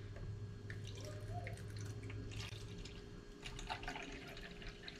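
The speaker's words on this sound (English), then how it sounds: "So we're going to go ahead and fill it up with water on either side" Water poured into the tank of a self-watering planter, a faint, steady trickle and patter lasting throughout with no voices.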